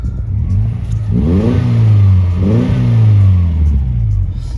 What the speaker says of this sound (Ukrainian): Дуже гарно звучить автомобіль.